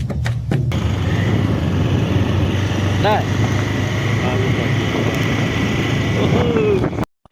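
A motorbike engine idles and runs with a steady close-up rumble, brief voices and clatter mixed in, before cutting off abruptly at the end.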